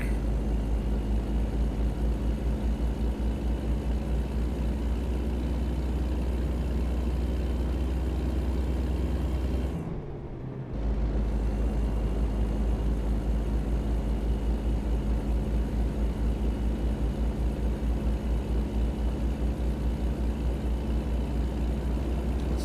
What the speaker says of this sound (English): Now you should be able to hear the truck as well.